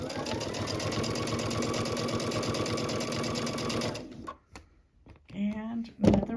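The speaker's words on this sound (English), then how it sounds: "I am just going to keep stitching this" A sewing machine runs at a steady, rapid stitching rhythm while sewing a quarter-inch seam, then stops abruptly, leaving brief clicks and a short spoken voice afterward.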